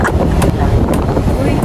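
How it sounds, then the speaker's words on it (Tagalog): Gusty wind buffets the microphone outdoors at a street festival, a loud continuous rumble filling the clip with a voice faintly underneath. "Kita mo kahit mahangin."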